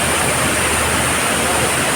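Waterfall feature at a bar and restaurant theme park, a loud unbroken broadband rush of falling water with no other sounds over it.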